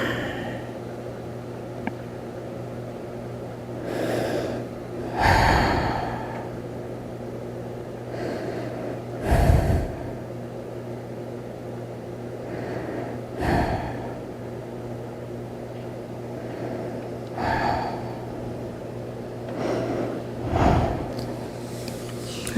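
Deep, audible breaths during a power vinyasa yoga flow, exhaling into a forward fold. Breathy rushes recur about every four seconds over a steady low hum, fairly close and moderately loud.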